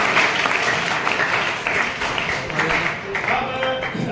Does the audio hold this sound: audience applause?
yes